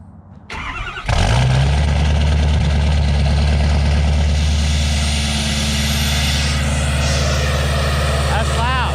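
A 2014 Ford F350 diesel pickup with DPF and EGR delete and S&B intake cranks briefly on a cold start, then catches and roars to life, settling into a loud, rough, rumbling idle that continues steadily; a voice is heard briefly.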